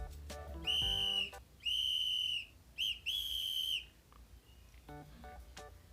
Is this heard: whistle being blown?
yes